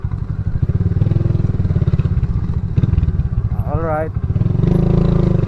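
A motorcycle rumbles along a rough trail near bamboo, its engine pulsing steadily and close, with a brief rising whine midway and a person talking over it.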